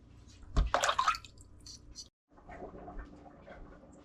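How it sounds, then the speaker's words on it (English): Tap water running over fish being washed for a catfish curry in a home kitchen, a loud splashing gush that cuts off briefly and then resumes more softly, close by. "we're gonna wash out the fish, finish cutting up and so on"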